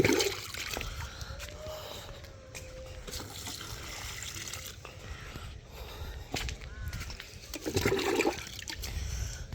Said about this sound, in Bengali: এটাকে একটু বেশি পানি দিয়ে দিই।